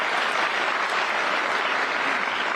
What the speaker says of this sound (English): A nice round of applause for them would be great.